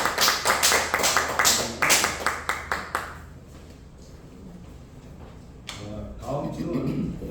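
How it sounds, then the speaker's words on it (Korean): An audience at a Friday noon workplace worship service claps in a quick, rhythmic burst of applause, fairly close, which stops after a few seconds; quiet murmuring and a voice follow. "박수 한번 치겠습니다"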